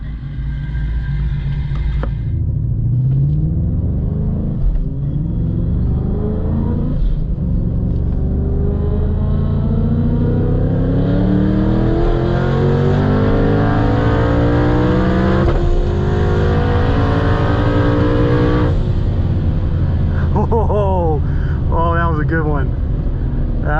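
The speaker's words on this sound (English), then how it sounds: "We'll see if we can do the same thing, click it up into third gear, let her eat." Turbocharged manual Ford Mustang accelerating hard through the gears in a street race against a Supra, engine pitch climbing steeply, dropping at each shift and rising again, loud and close inside the cabin with occasional voices.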